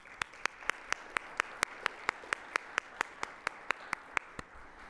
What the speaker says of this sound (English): let's give all of our sponsors and guests a round of applause.